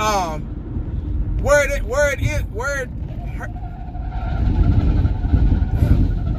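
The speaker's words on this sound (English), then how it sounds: "see this big ass truck right here. Y'all hear that?" Low engine rumble of a large truck swells as it passes, with loud voices talking over the start.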